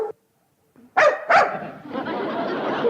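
A dog gives a few loud, close barks followed by yipping and whimpering, with a short voice before them.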